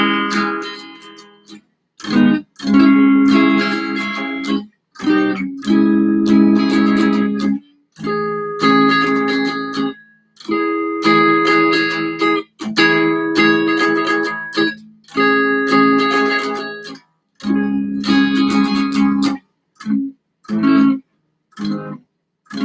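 An electric guitar strums a chord on the bottom four strings, repeated in short rhythmic bursts with brief silences between them, loud and close during a live practice session.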